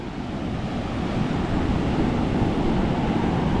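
Heavy surf pounds against the shore, a continuous loud roar of breaking waves mixed with wind rush that swells slightly louder toward the end.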